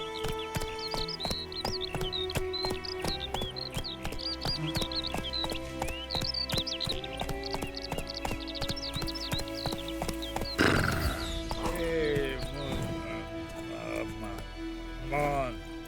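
Roach, Geralt's horse in The Witcher 3 next-gen on Xbox Series X, whinnies repeatedly while hooves clop at a steady pace under music, with a louder burst of movement midway and a person talking over it.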